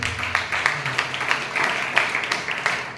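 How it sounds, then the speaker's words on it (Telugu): A worship congregation claps hard and fast at a Sunday church service, a dense, steady patter of many hands filling the room for the whole stretch. "గట్టిగా క్లాప్స్ కొట్టండి ఒకసారి."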